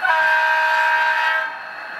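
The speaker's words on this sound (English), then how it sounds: "And F2 to sound the horn." Model diesel locomotive horn from a DCC sound decoder, an SD40-2 with a Nathan S3L three-chime horn, sounding one steady sustained chord for about a second and a half before cutting off, loud and alone with no talk.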